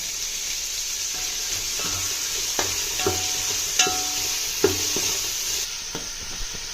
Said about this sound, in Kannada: ನೀಟಾಗಿ ಅದನ್ನು ಫ್ರೈ ಮಾಡ್ಕೋಬೇಕು